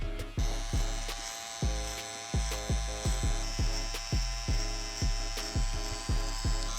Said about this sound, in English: After I debulk, I would come in with the trimmer